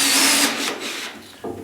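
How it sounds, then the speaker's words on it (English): A power drill whirs loudly as it starts pocket screws into a wooden floor support, a steady motor whine that eases off partway, then a brief second burst near the end. "what I like to do is start the screws just a little bit"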